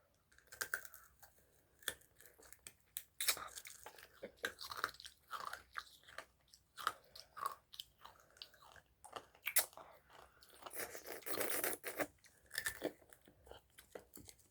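Homemade rock candy made only of sugar and water is bitten and chewed close up, giving a run of sharp, irregular crunches and cracks that come in bursts.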